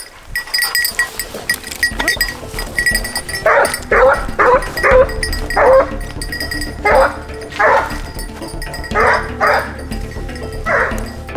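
Several hunting dogs bark and yelp in repeated bursts in a forest, fairly close, the calls overlapping in an excited, uneven rhythm.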